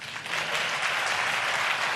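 Steady, dense applause from an arena crowd after a snooker shot at the China Open, continuous and fairly loud throughout.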